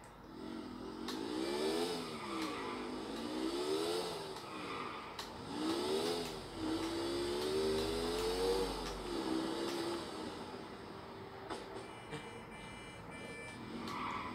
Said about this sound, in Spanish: Puedo manejar así con la moto.